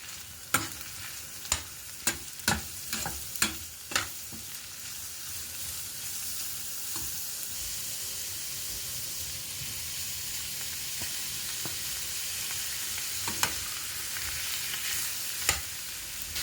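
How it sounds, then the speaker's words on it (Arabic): Grated carrots are stirred into hot oil with chopped yellow bell pepper in a pan. A steady, close sizzle runs throughout, with a quick series of sharp spoon scrapes and taps at the start and a couple more later on. "نبدأ بقى ننزل بالجزر المبشورة ونقلبهم مع بعض"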